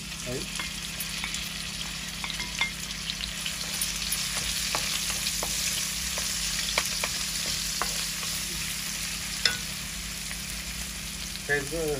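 Chilies fry in hot oil in a pan with a steady sizzle, broken by occasional stirring taps and scrapes.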